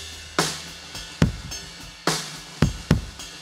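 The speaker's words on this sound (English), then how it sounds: "I didn't use the inside kick drum mic because it sounded like this" Kick drum captured by a microphone inside the drum, a series of dull, boomy thuds at an uneven rhythm, each with a sharp attack and quick decay, recorded alone.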